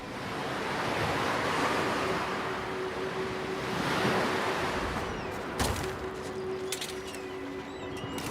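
Ocean waves wash onto a beach in a steady, broad rolling roar with some wind, fairly loud and close, and brief bird calls near the end; nobody speaks.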